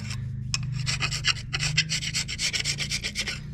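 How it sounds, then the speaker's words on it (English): A scraper is pushed across a Ford 5.4 aluminum cylinder head to remove old gasket material, making rapid, close, rhythmic rasping strokes that repeat steadily, with no talking. "So you just want to scrape all that stuff off"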